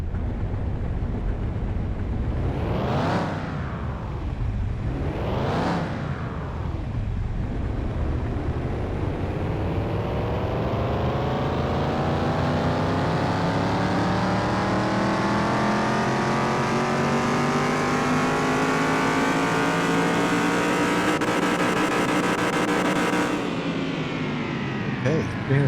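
A car engine in Car Mechanic Simulator 2021 starts with two rising revs, then climbs in one long sustained acceleration that holds loud and steady before dropping off at the end.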